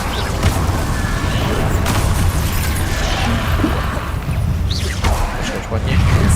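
Incendio fire spell cast in Hogwarts Legacy: a loud, unbroken roaring blast of flame with bursting crackles and booms throughout, and a voice shouting over it.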